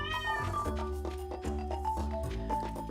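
A pet cat meows in Stardew Valley, a few clear plaintive cries rising and falling over sustained in-game music, close and distinct with no talking.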